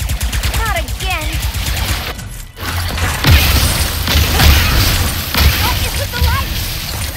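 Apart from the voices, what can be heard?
weapon gunfire in Ratchet & Clank: Rift Apart video game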